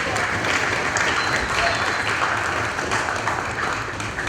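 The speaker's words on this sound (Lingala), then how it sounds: "nous acclamons très fort pour lui" Applause from an audience in a provincial assembly, a steady dense wash of clapping sustained at even loudness for the whole stretch with no pauses.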